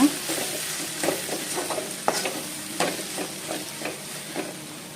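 Prawn thokku masala fries quietly in a pan with a soft sizzle as a spoon scrapes and stirs in repeated short strokes.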